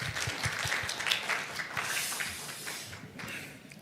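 Polite applause from a Korean conference audience greets a speaker coming up to present on eco-friendly ship engine technology; moderate clapping swells and then thins out toward the end, heard at some distance in a hall.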